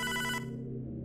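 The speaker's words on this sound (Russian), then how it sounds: "Телефон." A telephone rings in the video game Hotline Miami 2, a bright electronic bell trill with a warbling pulse that cuts off after a moment, leaving a low droning tone underneath.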